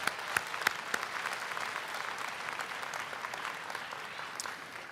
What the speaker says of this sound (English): let's give them a round of applause again for all of their support